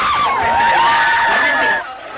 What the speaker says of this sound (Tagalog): Every time their candidate answered, the crowd went wild.